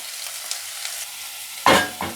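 A little oil in a pan gives a faint crackle until chili and onions are dropped in. The sizzle then flares up sharply, close and loud, and settles into a second, smaller burst.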